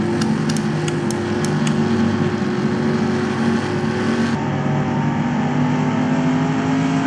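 Race car engines in the NASCAR Racing 2003 video game, during a Cup Series race at Dover, roar loud and continuous in a close, steady drone, with a few sharp ticks early on and a slight shift in tone partway through.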